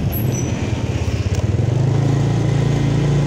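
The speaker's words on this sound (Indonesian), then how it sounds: "Naik motor gue dibonceng." Motorcycle carrying a rider and passenger through Narogong toward Rawa Lumbu, its engine a steady close low drone that rises and settles into a firmer hum midway, with no talk.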